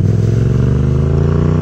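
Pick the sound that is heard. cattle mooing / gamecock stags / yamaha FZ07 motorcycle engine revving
yamaha FZ07 motorcycle engine revving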